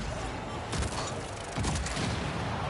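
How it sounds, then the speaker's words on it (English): Explosions and blasts in the car-soccer video game Rocket League, a dense rumbling burst followed by another loud impact, with chaotic game noise throughout. "they exploded me because I activated the explosion power"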